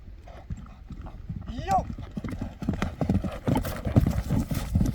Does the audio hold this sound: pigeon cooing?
no